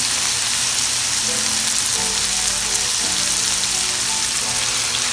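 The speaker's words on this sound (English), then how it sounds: "it's time to put in the bok choy" Bok choy hits a hot pan with carrots for a Jamaican-style stir-fry, giving a loud, steady sizzle and crackle throughout, with a few stirring clinks partway in and no voices.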